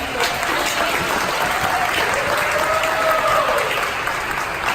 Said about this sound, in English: we should give another round of applause to Elizabeth.